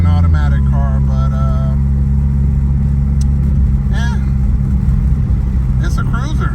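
A Starquest with an automatic transmission cruises along the road, its engine and road noise a loud, steady low drone throughout, with voices talking over it.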